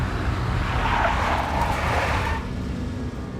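A big black Mercedes skids in the Max Payne video game, a loud sustained tire squeal over a rumbling engine that fades slightly near the end, with no talk.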